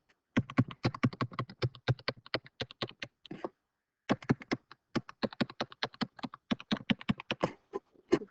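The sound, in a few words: pen clicking on a screen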